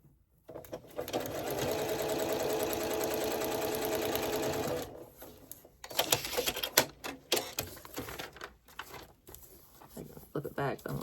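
A sewing machine stitches a foundation paper-pieced quilt block in one steady rapid run of about four seconds, close and clear, followed by rustling paper and fabric handling.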